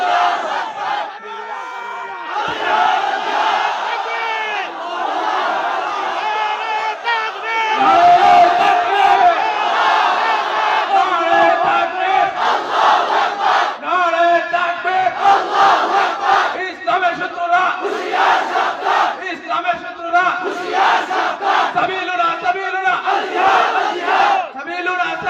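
A large crowd at a religious rally chants the takbir, Allahu Akbar, a loud, sustained roar of many voices rising in repeated waves and filling the space for the whole stretch.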